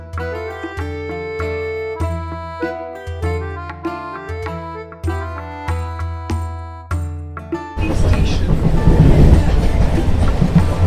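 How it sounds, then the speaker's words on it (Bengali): A suburban local train runs along the line, its broad, steady rumble and rattle surging in for the final few seconds after tonal music fills the opening. "এখন আমাদের লোকাল ট্রেনের স্পিড মাত্র 75, 76, বাড়তে পারে 78"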